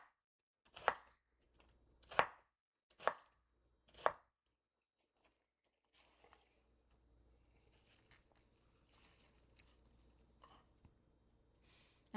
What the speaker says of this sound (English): I am currently cutting up this head of cabbage so we can use it for our rice dish later